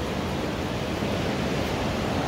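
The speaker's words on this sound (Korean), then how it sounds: "파도가 치는구나. 물이 들어오는 것 같아요." Ocean surf on the US West Coast along Highway 101 washes in as a steady, broad roar of breaking waves in the rain, loud and unbroken with no clear gaps.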